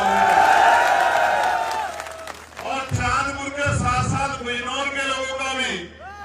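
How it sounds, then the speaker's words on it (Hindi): A crowd at a political brotherhood gathering in Bijnor claps and cheers loudly. A voice rings out over the noise at the start, and the applause continues with whoops and shouts through the rest of the clip. "मैं कहूंगा चांदपुर के लिए भी जोरदार तालियां होंगी"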